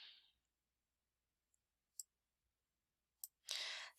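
Mouse clicks on a Close button in a database program, a couple of sharp isolated clicks in near silence, followed by a brief louder rustling burst.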